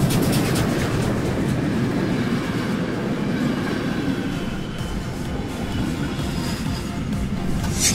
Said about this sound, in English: Steam locomotive